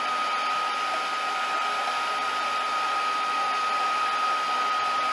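A hair dryer blows hot air steadily over paper towel sunflowers, a constant close whine with a high tonal hum that never varies in level and no voices.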